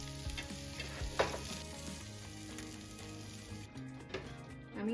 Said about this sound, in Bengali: ডিমগুলি এবার আস্তে আস্তে ভেজে নিচ্ছি।